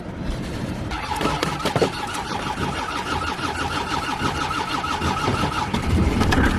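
An old car that has been kept since 2007 cranks and fires up on a cold Hogmanay in Scotland, a rapid rhythmic starter churn that catches into a running engine and grows louder toward the end.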